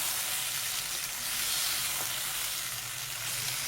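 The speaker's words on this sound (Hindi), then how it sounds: "अदरक लहसुन हरी मिर्च के साथ 1 मिनट तक फ्राई करेंगे" Ginger garlic paste and green chillies fry in a pan for a butter chicken karahi, making a dense, loud, continuous sizzle close up and without pause.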